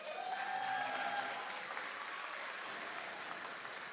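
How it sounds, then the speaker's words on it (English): A convention crowd at a comic con claps as a game publisher's community manager walks on stage, a soft, distant wash of applause that starts fuller and tapers slightly over a few seconds. "Can we get a round of applause for him coming on stage"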